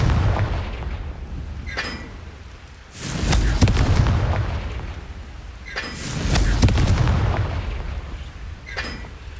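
Confringo blasting spell explosions in Hogwarts Legacy arrive as two heavy, rumbling blasts several seconds apart, each with a sharp crack and a long roaring tail, alongside lighter pops in between.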